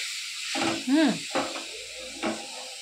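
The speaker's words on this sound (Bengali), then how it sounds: "দেখো আমি আস্তে আস্তে করে নারকেলটা মিশিয়ে নিচ্ছি গুড়টার সাথে।" Grated coconut stirred with jaggery in a pan over very low heat, giving soft scraping stir strokes with a faint sizzle underneath, close and fairly quiet while a voice speaks over it.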